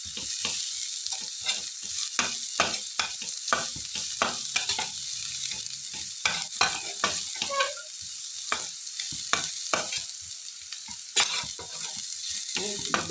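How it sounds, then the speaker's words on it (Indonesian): Food frying in a plain aluminium wok while being stirred for tempe chili fried rice, a continuous sizzle broken by repeated sharp scraping stirs, close and fairly loud. "Ini dibiarkan sampai digorengnya sampai kekuningan ya."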